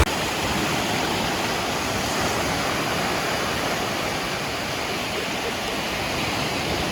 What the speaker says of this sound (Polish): Fale się fajnie zaplatają z prawej strony i z lewej strony.